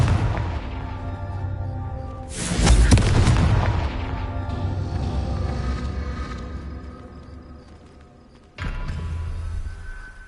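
In the Hogwarts Legacy video game, a Confringo spell goes off as a booming blast that rolls off into a lingering rumble, followed by a second sharp impact near the end.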